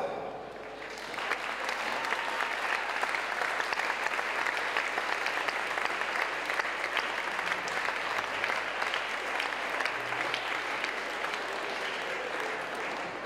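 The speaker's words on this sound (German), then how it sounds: "bitte begrüßen Sie mit einem großen Applaus" Audience at a dance event in Linz gives a long, loud round of applause welcoming a singer on stage, a dense sustained roar of clapping that swells after a short opening and holds steady.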